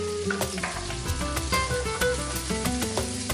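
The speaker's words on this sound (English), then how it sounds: "add the sofrito, which is a staple in all Spanish cooking" Sofrito for Spanish tapas sizzles and fries steadily in a hot pan, a close, continuous crackle with a few sharper pops and stirring clatters throughout.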